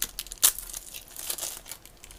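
Packaging around a GoPro MAX dual battery charger is opened, producing close, light crinkling and tearing of plastic and paper, with one sharper rustle near the start and softer handling after.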